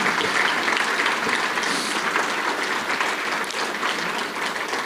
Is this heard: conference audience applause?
yes